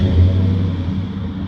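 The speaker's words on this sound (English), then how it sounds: "Watch this, ready? Remote start." Lifted 2010 Chevrolet Silverado 1500 LTZ 4x4 with a 6.2L engine and side-exit exhaust, a deep steady engine rumble heard close and loud just after a remote start.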